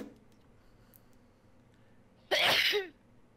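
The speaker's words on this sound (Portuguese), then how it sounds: "Espirrar." A single sharp sneeze bursts out close by after near silence, brief and loud, trailing into a short vocal tail, during a PlayerUnknown's Battlegrounds game session.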